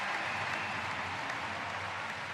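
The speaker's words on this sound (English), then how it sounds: "And another big cheer for Great Britain's Natalie Jones" An indoor swimming-meet crowd cheers and applauds for a Great Britain swimmer, a dense, steady roar of clapping with no break.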